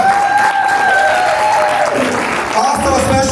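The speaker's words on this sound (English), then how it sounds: "Let's give a round of applause to them." Audience applause at a breast cancer awareness event, a dense wash of clapping filling the room throughout, with a voice speaking over it.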